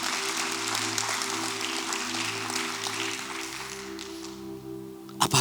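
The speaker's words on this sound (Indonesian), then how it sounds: "Berikan tepuk tangan yuk." Congregation applause during a church sermon, a steady broadband patter of clapping sustained for several seconds over a low instrumental drone, ending with a few louder bumps near the close.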